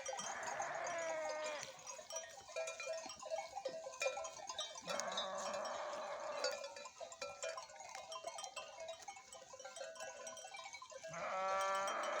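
Repeated sheep bleats, several animals calling in turn over a busy outdoor background, with a faint clank like a cowbell.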